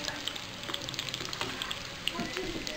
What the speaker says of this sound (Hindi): ऐसे ही करते हुए सारे अरबी को फ्राई कर लेंगे।